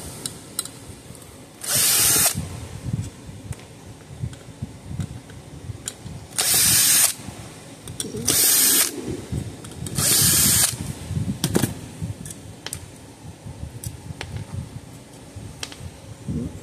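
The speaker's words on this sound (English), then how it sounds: "Let's pull these screws out." A power screwdriver backs screws out of the housing of a Gallagher S22 solar circuit board in several short, loud whirring bursts separated by pauses and handling noise.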